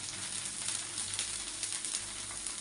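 Oil sizzling around a tomato dosa cooking in a pan, a steady close crackling hiss with fine popping bursts throughout.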